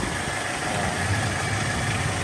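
The 2.4-liter four-cylinder engine of a 1998 Toyota Tacoma SR5 extended cab with a five-speed idles steadily and close by, a continuous even rumble with no talking.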